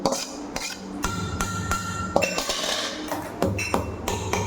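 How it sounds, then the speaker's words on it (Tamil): A spoon clinks and scrapes against a bowl as dosa batter is mixed with drumstick leaves and vegetables, with close, irregular metallic taps and knocks and no talking. "இதை போட்டு நல்லா கலக்கிக்கணும்."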